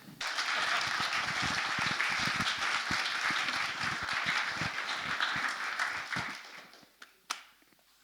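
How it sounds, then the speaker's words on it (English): A church congregation applauds the treasurer at an annual parish meeting, with sustained dense clapping from a roomful of people that fades out near the end. "I know we've just applauded him"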